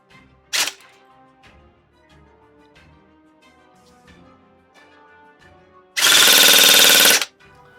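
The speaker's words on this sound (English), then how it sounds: "While chronoing the gun itself" A Specna Arms J Series airsoft AK electric rifle firing 0.20 g BBs: a short early shot, then a loud sustained buzzing burst of full-auto fire lasting over a second. Faint background sounds fill the gap between them.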